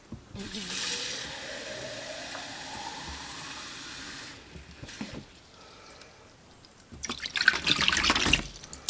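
Tap water runs steadily while fabric is rinsed in a sink, a close, fairly loud rush that fades out, then returns as a brighter splashing burst near the end.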